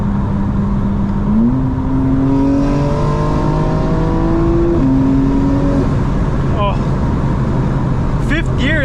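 A 2025 BMW M4 engine pulling hard in fifth gear during a night drive, a loud sustained rising drone with a shift partway through, heard from inside the cabin.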